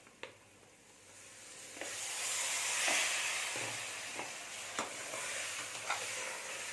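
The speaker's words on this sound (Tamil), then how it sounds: "அதனால் இதில் இப்போ மட்டனை சேர்த்துருவோம் கழுவி வச்சிருந்தா மட்டனை இதை சேர்த்தலாம்" Mutton sizzles steadily as it fries in a pan for a mutton chops gravy. The sizzle swells and fades, broken by sharp scrapes and knocks as it is stirred, with no talking.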